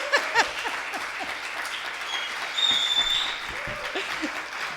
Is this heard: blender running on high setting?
no